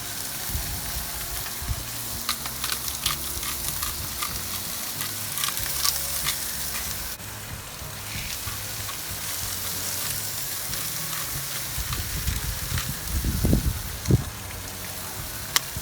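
Philly cheesesteak ingredients fry on a griddle oiled with olive oil, giving a steady, close crackling sizzle throughout with brief scraping near the end.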